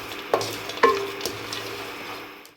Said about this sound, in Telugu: జీడిపప్పు కొంచెం జీలకర్ర మనం ఫ్రై చేసుకున్నాము